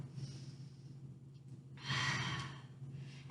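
A yoga practitioner draws one audible breath during a revolved lunge, a soft airy inhale swelling for about a second in a quiet room with a low steady hum beneath.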